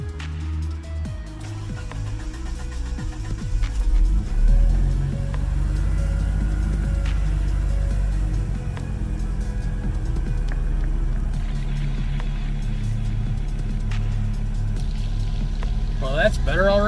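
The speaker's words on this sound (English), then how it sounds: "Let's jump inside the car and fire her up." A car engine idles after a fix for an idle surge, starting up and then settling into a steady low rumble that stays fairly constant, with a brief shift near the end.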